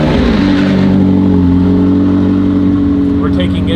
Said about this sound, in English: We're in the McLaren.